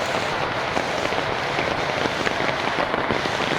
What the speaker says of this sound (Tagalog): Naglilipas ng ulan.